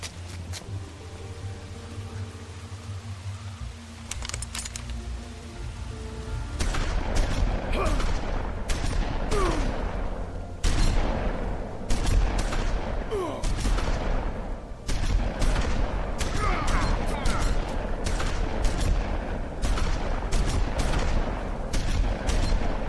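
Shotgun blasts ring out in a burst of gameplay from The Wolf Among Us, a run of loud booming shots fired one after another over a noisy action scene.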